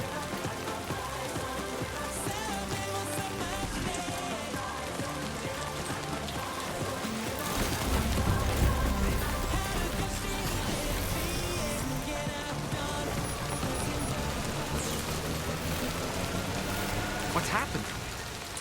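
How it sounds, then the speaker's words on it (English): Steady rain falls in the video game Death Stranding 2, a dense continuous hiss and patter that swells slightly midway, layered under game music and ambience with no pauses. "I don't think this rain's gonna stop."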